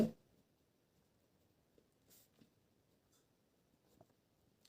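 Pen or pencil writing a class five math word problem by hand, faint soft scratching strokes in a few short bursts on a quiet background, no talking.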